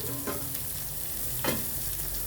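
Dry frying sizzle of flattened rice roasting in a pan with a couple of scraping stirs, steady and close, no voices.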